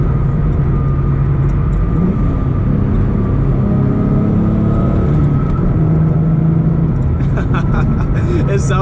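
A car's interior rattles and drones constantly while driving, a loud low road-and-engine rumble with a busy metallic buzz running through it, and a few brighter ticks near the end.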